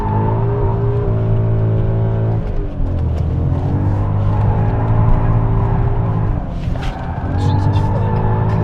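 A BMW M5 sports sedan is driven hard while drifting. The engine revs and drones loudly, its pitch shifting with the throttle, and there are hints of tire noise, all heard from inside the car with voices over it.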